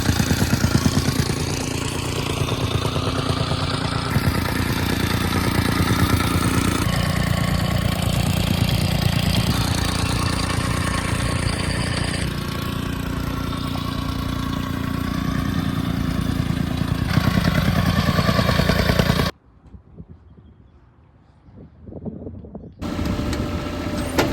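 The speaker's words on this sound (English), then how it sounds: "The guys are compacting the backfilling below the house" A compactor packs down backfill beneath a house under construction where a deck will go, giving a steady loud engine drone with pounding texture for most of the clip, then cutting briefly near the end before starting up again.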